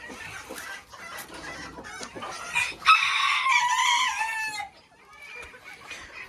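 On a ranch, chickens cluck in quick bursts as a rooster lets out one loud, drawn-out crow midway, followed by softer clucks.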